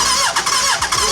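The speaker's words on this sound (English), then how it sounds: "we heard it run in the car for the very first time" A Suzuki Hayabusa motorcycle engine fitted in a Nissan Micra conversion runs with a loud, steady, high-pitched mechanical roar. Brief surges and dips in the engine note carry through the short stretch, with no talking.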